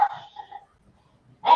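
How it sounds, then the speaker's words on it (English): A guard dog barks loudly and close: a short yelping bark that trails off, a quiet pause, then another sharp bark at the end. "She's a phenomenal guard dog, this one."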